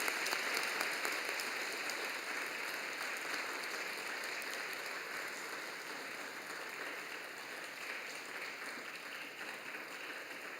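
Steady applause from a church congregation greets award recipients during a Sunday evening service, an even, sustained clapping that carries on for about ten seconds with no speech.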